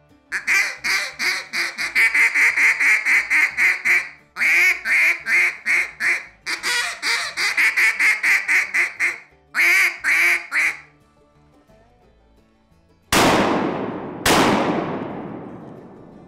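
A hand-held duck call blows rapid quacking cadences in several bursts, with changing pitch and back pressure to mimic a group of ducks. The calling is loud and close, followed by two sharp, ringing bangs.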